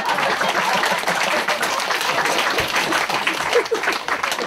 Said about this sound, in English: Okay, clap hands.